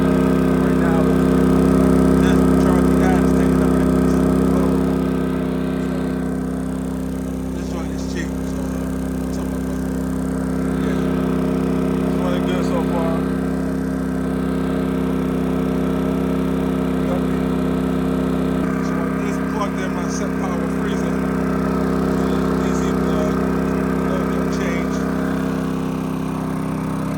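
A WEN 3600 inverter generator runs steadily during break-in at Greenbelt State Park, a loud, close engine drone with a constant hum. It eases down slightly around the middle, then holds.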